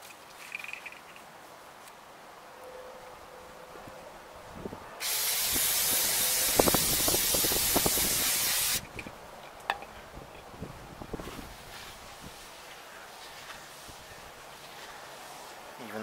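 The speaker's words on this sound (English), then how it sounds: "Let's get some brake parts cleaner action." Brake parts cleaner sprayed onto car brake parts, one loud continuous hiss of about four seconds over quiet shop background, followed by scattered clinks and drips.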